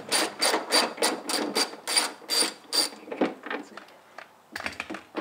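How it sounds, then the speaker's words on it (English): A ratchet clicks in quick, close bursts while two 10 mm bolts are backed out of the washer fluid tank on a Nissan Xterra, with short pauses between runs and a few lighter metallic clicks at the end. "take these two 10 millimeter bolts out"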